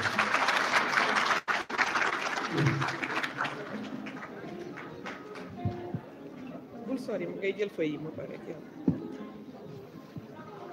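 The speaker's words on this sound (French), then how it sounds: "Sous vos applaudissements, s'il vous plaît" An audience claps for a minister being introduced at a formal Fidak 2024 fair event, with dense broadband applause over the first few seconds that then thins under ongoing speech and room noise.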